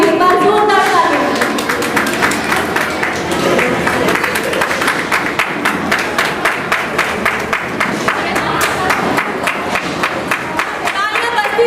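Audience applause at an Ambedkarite NGO event in honour of Babasaheb Ambedkar's parents, a dense, steady crowd clapping sustained loudly throughout with crisp individual claps standing out.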